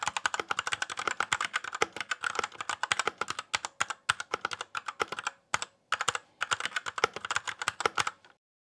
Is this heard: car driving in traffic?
no